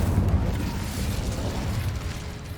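Casting the Incendio fire spell in Hogwarts Legacy gives a deep, rumbling whoosh of flame that roars steadily for a couple of seconds, heavy in the low end with no talk over it.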